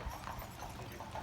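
Horse hooves clip-clop steadily on the road as a horse and carriage moves around Mackinac Island, a faint, even rhythm of several hoofbeats with no talking.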